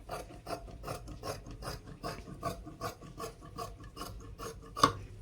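Scissors cut through fabric from a saree being made into a long frock, with a steady run of close, rhythmic rasping snips and no talking.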